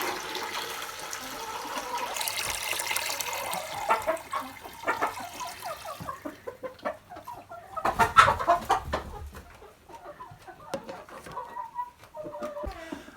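Chickens and roosters cluck and squawk inside a homestead coop, with many close, overlapping calls and a continuous rushing background noise during the first half.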